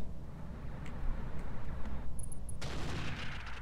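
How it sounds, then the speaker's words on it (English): An ammo explosion in the mech combat game Roguetech: a few sharp metallic pings, then a sudden loud burst that rumbles and crackles over steady low engine drone to the end. "Was that an ammo? I think that was an ammo explosion."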